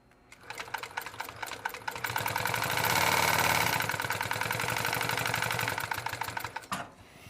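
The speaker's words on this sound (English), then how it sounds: "sewing on some leather liners at the moment" A sewing machine stitching leather liners for collars, running in a fast steady whir that speeds up and holds for several seconds before stopping, close and alone.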